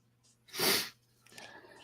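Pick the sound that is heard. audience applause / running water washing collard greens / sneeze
sneeze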